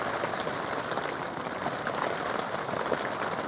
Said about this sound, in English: It's very cold, and it is bucketing it down.